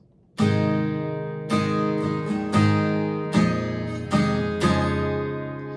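Acoustic guitar plays a short ascending run of plucked notes, each ringing out clearly, ending on a sustained chord; no talking.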